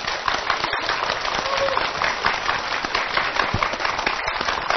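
A studio audience on a television magic show applauds to welcome a magician, a steady wash of clapping throughout with a voice coming through now and then.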